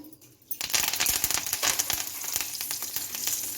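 Curry leaves and mustard seeds hit hot tempering oil for a sow sow (chayote) chutney, bursting into a loud, steady crackling sizzle with sharp pops after a quiet start, close up and with no talk.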